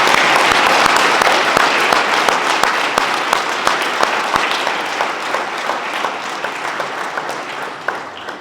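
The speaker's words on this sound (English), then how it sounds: "Please join me in a round of applause." A dinner audience at an ethics and leadership keynote event claps in a dense, loud round of applause that gradually thins and fades over several seconds, with individual claps becoming more distinct toward the end.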